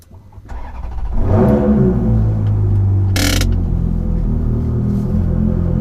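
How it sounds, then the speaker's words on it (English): Ferrari F430 engine cold-starting nearby: a short starter crank, then a loud rising bark into a high, steady rumbling idle that holds strong, with a brief hiss midway and no talking. "Get ready for this cold start."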